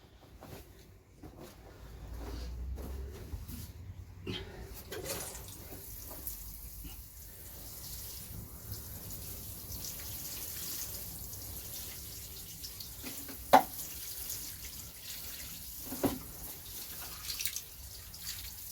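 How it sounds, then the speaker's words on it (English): Water poured gently over seedlings in a low-cost manure hotbed, a quiet trickle and patter with scattered drips and a few sharper splashes, soft and close throughout. "So we'll just give it a bit of a water now."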